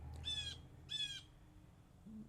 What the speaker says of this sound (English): I got a bird here making himself heard.